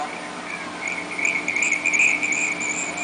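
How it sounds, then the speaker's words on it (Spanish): Steady, high-pitched cricket chirping, a continuous trilling chorus that swells slightly louder midway, with no voices. "Los grillos frotan sus patitas para encontrar a su pareja."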